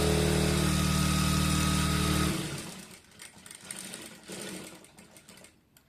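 A sewing machine stitching a cloth napkin, fast steady mechanical whirring for about two seconds, then stopping and leaving faint handling noises of the fabric.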